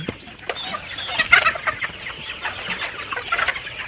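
Fayoumi chickens, about two months old, cluck and chatter steadily at close range on a farm, a busy overlapping flock sound with brief louder calls and no voices.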